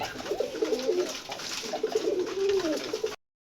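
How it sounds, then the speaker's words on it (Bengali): Deshi Rajgolla pigeons coo repeatedly at close range, two bursts of throaty warbling calls over faint background noise before the sound cuts off. "এই জায়গায় আছে আর এক জোড়া গোল্লা কবুতর"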